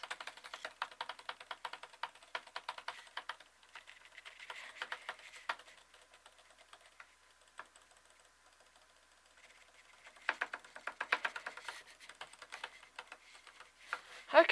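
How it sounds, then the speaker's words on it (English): A computer mouse clicks rapidly during a Minecraft PvP arena game: close, dry, irregular clicks in dense bursts with brief pauses between them. "That's me clicking my mouse."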